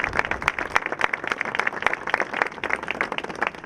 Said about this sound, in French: Je crois qu'on peut applaudir Jean